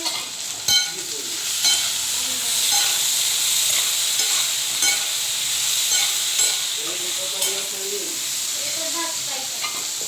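Eggplant sabzi roasts and gets stirred in a pan, giving a steady sizzle with soft hiss, periodic scraping stirs and a few sharp clicks, while faint birdsong sounds in the background.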